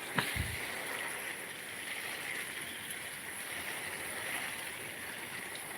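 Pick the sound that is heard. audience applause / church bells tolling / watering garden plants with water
watering garden plants with water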